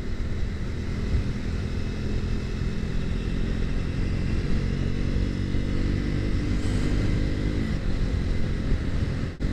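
A Triumph Scrambler 400X motorcycle pulls onto an expressway in fifth gear, its engine droning loud and steady with a rising tone near the end, wind rush mixed in and no talk.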